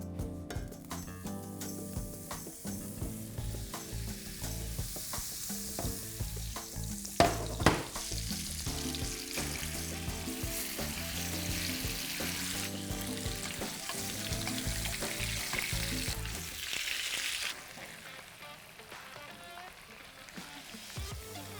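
Meat fries in a mix of butter and oil for a meat roll, giving a steady close sizzle with soft crackles and a couple of sharper pops, easing off near the end.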